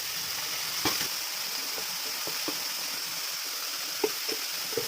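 Potato, carrot and bitter gourd frying in a pan, a soft continuous sizzle with occasional small pops and light clinks, moderately close and without talking.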